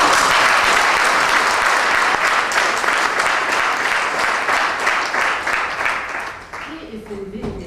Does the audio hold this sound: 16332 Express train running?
no